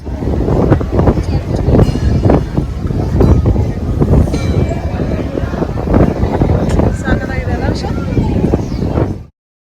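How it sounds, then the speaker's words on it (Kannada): Strong wind buffets the microphone on a hilltop at Himavad Gopalaswamy hill, a loud, continuous roar with gusty surges lasting nearly ten seconds. "ಸಖತ್ ಗಾಳಿ."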